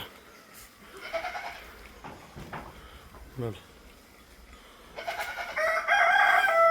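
A dairy goat bleats a few times amid clucking and crowing poultry, with voices talking nearby.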